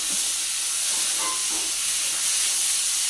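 Hissing sizzle of tempering spices dropped into hot oil for noodles, a steady bright crackle throughout, close up.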